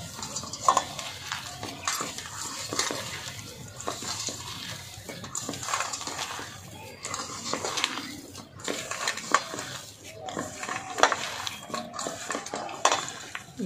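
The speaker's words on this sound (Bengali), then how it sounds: "এবার খুব সুন্দর করে মেখে নেব।" Mashed potato is kneaded by hand with coriander powder, garam masala and salt for Bengali aloo chop, giving soft squelching, patting and rubbing noises in an irregular rhythm, close and fairly quiet.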